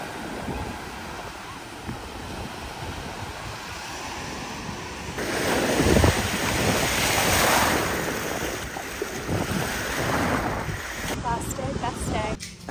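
Ocean surf rolls onto a beach on the Florida 30A coast near Alys Beach, a continuous wash of waves under gusting wind noise that swells louder midway through.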